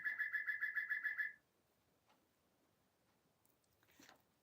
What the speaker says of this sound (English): there's my bird clock. So it's getting to be time.